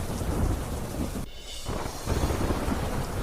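Heavy rain pours down steadily in a rural area during a storm, with deep thunder rumbling through it; the downpour briefly drops out for a moment before the dense hiss of rain returns.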